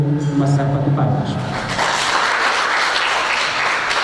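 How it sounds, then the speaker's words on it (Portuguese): A speaking voice opens, then a crowd bursts into applause honoring the municipal administration at a youth solidarity brigade gathering in Uíge, the clapping dense and sustained to the end. "a quem eu peço uma salva de palmas"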